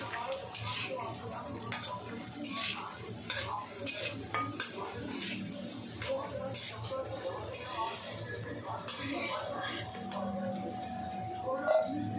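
Raisins lightly frying in ghee in a pan, a soft sizzle under frequent spoon scrapes and clinks against the pan, fairly quiet, with a voice speaking at times.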